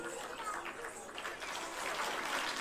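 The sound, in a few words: audience applauding to welcome performers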